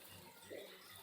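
Cool spring water seeping over rocks on the forest trail to Sabarimala, a faint steady trickle under a soft outdoor hush, with one brief louder splash midway.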